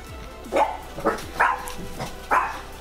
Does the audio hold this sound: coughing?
no